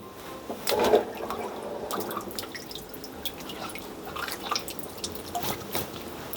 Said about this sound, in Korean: 이렇게 물기를 꾹 짜주세요.